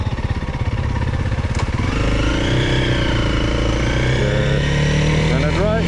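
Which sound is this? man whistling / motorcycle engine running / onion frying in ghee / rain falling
motorcycle engine running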